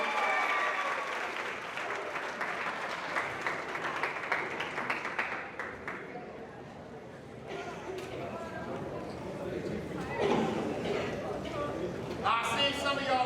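A university scholars' event audience claps and cheers in a dense, lively roar that dips midway, then swells again in scattered bursts, with a voice speaking over parts of it.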